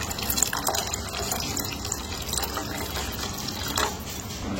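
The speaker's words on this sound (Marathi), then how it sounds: "आता ह्याच्यात आपण थोडं पाणी घालणार आहे" Water pours steadily into a pot of dal vange, a spiced lentil and brinjal mixture, making a continuous splashing, gurgling flow close by.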